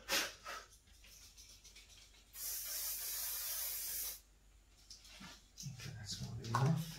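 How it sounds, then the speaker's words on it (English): Aerosol fixative sprayed over a charcoal sketch of a model's face: one steady hiss of about two seconds, fairly close, with quiet rustling before and a voice murmuring afterward. "I think I need to spray it now, just a little touch on the chin"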